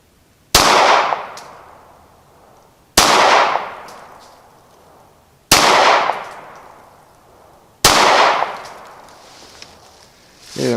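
Four loud, sharp pistol shots from a Ruger Security 9, evenly spaced a couple of seconds apart outdoors, each with a quick crack and a decaying echo tail, no talking.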